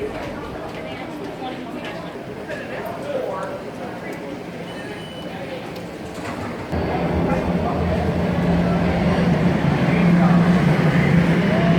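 A Toronto subway metro train rumbles steadily, growing louder and heavier partway through as it runs, with people chattering over the continuous low roar.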